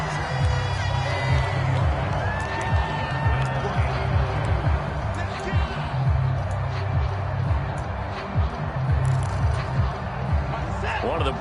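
Stadium crowd in a PS4 football video game roars and cheers steadily through a big third-down moment, a dense continuous wash of noise at moderate level with scattered game sounds underneath.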